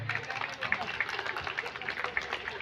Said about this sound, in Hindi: उसके लिए मेंढन साहब के लिए हम लोग तालियां बजाएंगे।